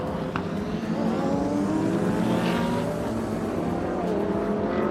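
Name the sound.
GT race cars racing at Sepang International Circuit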